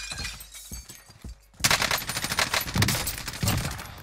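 Gunfire in the Warzone battle royale game, a few scattered shots followed by a dense, loud rapid burst of automatic fire with strong recoil, sustained for several seconds without speech.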